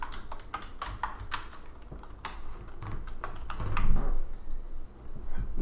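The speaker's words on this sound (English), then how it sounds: "I just gotta enter my password." Quiet, close keystrokes on a computer keyboard while a password is entered, a run of a dozen or so irregular taps with short pauses and no talking.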